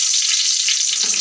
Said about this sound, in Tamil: எண்ணெய் ஊற்றி அது எண்ணெய் கொதிச்சோடனே கொஞ்சம் சோம்பு போட்டுக்கிறேன்